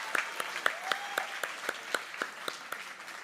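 Applause at the BB Camp Bash 2022 gathering comes through as quiet, evenly spaced claps in a steady rhythm, slightly distant, with no talk over them.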